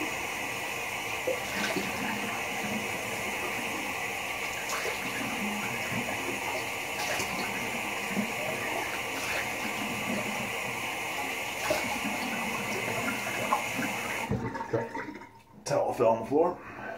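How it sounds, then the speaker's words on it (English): Tap water runs steadily for a cold-water rinse after a wet shave, a continuous close splashing wash that stops near the end, followed by a few brief handling sounds. "cold water rinse"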